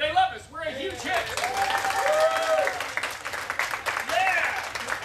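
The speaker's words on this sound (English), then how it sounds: "And Shelly, all of this applause is for you" An audience claps and cheers at a live superhero and magic show, steady applause filling the room with children's voices shouting over it.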